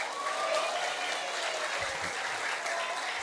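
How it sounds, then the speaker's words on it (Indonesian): A mosque audience at a Maulid Nabi commemoration claps together in steady, dense applause that fills the whole short stretch at an even level. "Tepuk tangan dulu dong."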